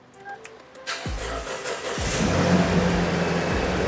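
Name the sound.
Toyota Land Cruiser Prado engine starting up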